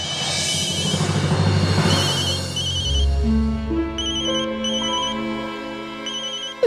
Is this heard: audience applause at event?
no